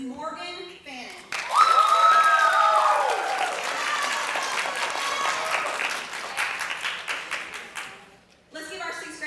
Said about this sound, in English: Let's give our 6th grade participants another round of applause.